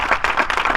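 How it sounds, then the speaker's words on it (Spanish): A church congregation claps hands together in a quick, loud burst of rhythmic applause with no voices heard. "Dele palmas al Rey bendito."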